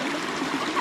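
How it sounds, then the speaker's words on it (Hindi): A fresh mountain stream by the Kalsi–Chakrata road rushes in a steady, close, broadband wash of flowing water, brief and continuous with no voices. "अपना जो पानी चल रहा है देखो फ्रेश"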